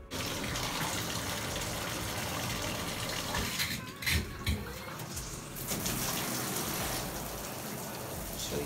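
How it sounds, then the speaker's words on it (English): Water runs steadily from a shower, a dense continuous hiss with a few brief clunks and splashes midway, fairly quiet and close. "In the shower."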